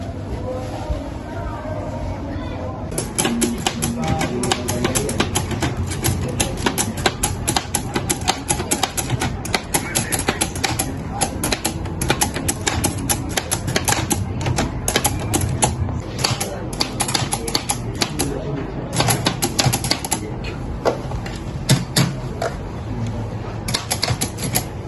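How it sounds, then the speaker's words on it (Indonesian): A manuscript is typed quickly on a manual typewriter. Dense, rapid key strikes clatter continuously for most of the stretch, close and loud, with a few brief pauses, and people talk faintly at times in the background. "Ya sudah, tolong ketik dengan cepat."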